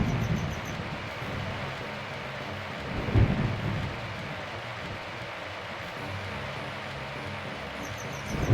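A cartoon rain-and-thunder effect: steady rain hiss with rolling thunder and a sharper crack partway through, then the storm swelling again at the end, with no voices.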